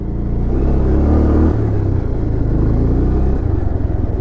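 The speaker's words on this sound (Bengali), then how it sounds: "আর আমার বাইকের র সাউন্ডটা তোমরা শুনতে পাচ্ছ" A motorcycle engine rumbles loud and close on a rough, landslide-damaged off-road mountain stretch between Gangtok and Ravangla in Sikkim, a steady low drone with a brief surge in revs partway through and no voices.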